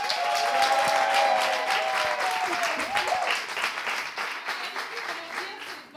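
Audience at a live final event applauding steadily, a dense wash of clapping that holds for several seconds and slowly thins out, with a voice over it briefly.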